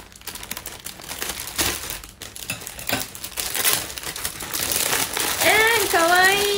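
A package is opened with scissors and unwrapped, giving close crinkling, rustling and crackling that grows busier over the clip, with a voice speaking briefly near the end.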